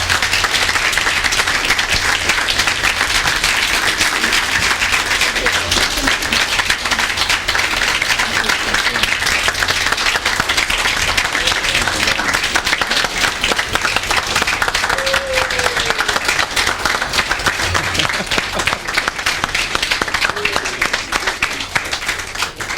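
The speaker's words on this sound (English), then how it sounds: "let's give him a big round of applause" A college audience gives a long, sustained round of applause, dense and loud, with many hands clapping continuously and a few faint voices beneath it.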